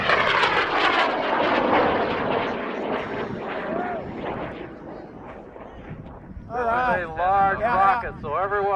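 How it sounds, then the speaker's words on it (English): An M1939 WAC Corporal science rocket lifts off in a loud, roaring rush that slowly fades into the distance, followed by cheering voices near the end. "M1939 WAC Corporal going in 10, 9, 8, 7, 6, 5, 4, 3, 2, 1, launch. We have ignition"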